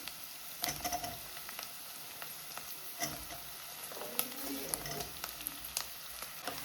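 Mustard seeds and chopped vegetables sizzling in a hot pan for ridge gourd palya, a steady crackling fry with scattered pops and occasional stirring scrapes, close and moderately loud with no talking.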